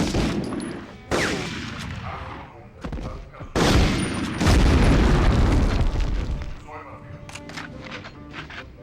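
Shotgun blasts and heavy booms ring out in the video game Medal of Honor, with sharp reports and rolling explosive rumbles, loud and close, and voices talking underneath.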